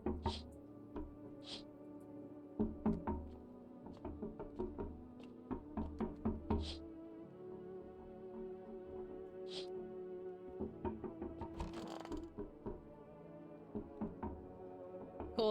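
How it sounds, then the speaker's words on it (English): Knocking on windows in the video game No, I'm Not a Human, repeated sharp raps in uneven clusters over a quiet low hum, fairly faint. "They're knocking on all my windows?"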